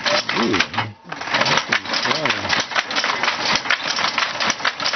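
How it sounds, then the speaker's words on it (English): A wooden shuttle on a weaving loom clatters back and forth with rapid, rhythmic mechanical knocking and beating. The sound is loud and continuous, and voices talk over it throughout. "Using that piece of wood with the thread is just flying back and forth here."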